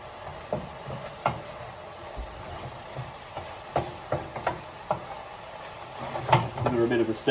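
A Thai holy basil stir-fry (pad gaprao) sizzles in a hot pan, with a series of distinct scraping and clattering stirs at irregular intervals that grow busier toward the end.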